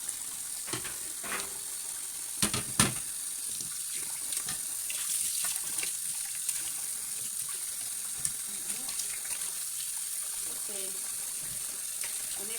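Tap water runs steadily into a sink while salt cod is washed under it, a constant close wash with occasional clatters and splashes, and a voice speaking over it at times.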